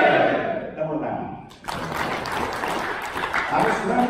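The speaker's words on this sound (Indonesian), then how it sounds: "Tepuk tangan." A seminar audience of Scout (Pramuka) members in East Java breaks into loud, dense clapping and cheering that fills most of the clip. A speaker's voice is heard in the opening moments.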